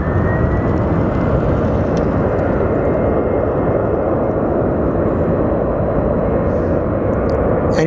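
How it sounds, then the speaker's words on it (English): A Boeing 777 bound for JFK at Sky Harbor Airport spools up its jet engines, a loud, dense, continuous roar with a faint rising whine, heard from nearby and holding steady throughout. "And looks like the 777 for JFK just came alive."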